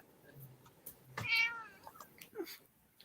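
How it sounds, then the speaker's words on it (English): A single cat meows once, close and clear, in a quiet room, followed by a few faint shuffling sounds. "Hey, the kitty cat's just saying hi."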